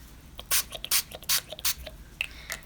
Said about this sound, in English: I'm going to spray a bit bigger area.